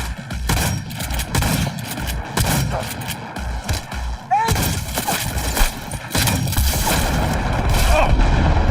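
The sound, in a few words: gunfire in the video game Cyberpunk 2077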